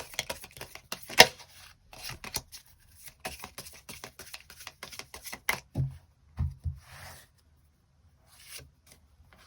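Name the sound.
shuffling and drawing tarot cards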